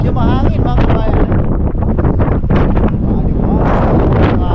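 Strong sea wind buffets the microphone beside a fishing boat out on the water, a loud continuous roar with a voice talking over it.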